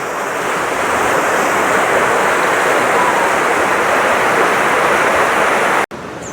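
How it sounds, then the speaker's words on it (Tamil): Floodwater in Jaffna rushes through an opened channel toward the sea, a loud, steady, close roar of churning water that holds constant throughout before cutting out abruptly near the end. "திறந்து விட்டதால் கீழால் போகுது தண்ணி."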